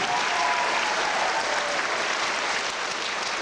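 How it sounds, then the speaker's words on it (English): An audience at a school D.A.R.E. graduation ceremony claps steadily and loudly, a dense, continuous wash of many hands that holds level for the whole stretch. "let's give a round of applause for the special ed class"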